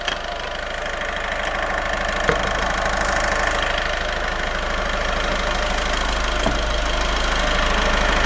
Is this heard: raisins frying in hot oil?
no